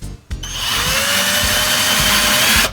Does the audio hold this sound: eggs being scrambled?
no